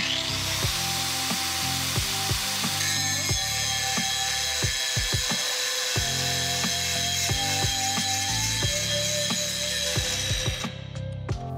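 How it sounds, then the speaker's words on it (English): A grinder working aluminum for a spark test makes a continuous close mechanical grinding whine with rattling, ratchet-like clicks and scraping throughout, cutting off abruptly near the end. "Now we're going to grind aluminum."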